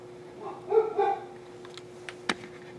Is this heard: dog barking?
yes